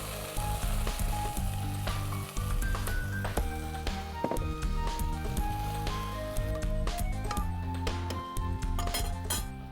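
Shrimp korma with milk and cumin paste cooking over high heat, a steady sizzle under frequent clinks and clatter of utensils against the pot, close and busy throughout.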